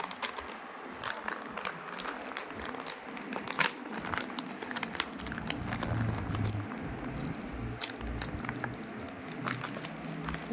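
Paper and plastic crinkle and rustle as a gift package is unwrapped, with scattered tearing and crumpling sounds, close up and without speech.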